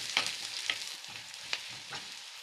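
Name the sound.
onions sautéing in a pan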